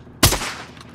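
A single sharp, loud gunshot blast from the Call of Duty Warzone video game, up close, with a short decaying tail afterward and no talk.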